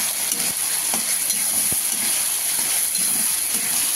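Onion and ginger paste sizzles and fries in a pan while being stirred, a loud steady hiss with occasional scraping and knocking from the spoon against the pan.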